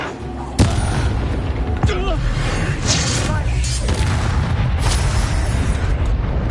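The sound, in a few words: Incendio fire spell in Hogwarts Legacy video game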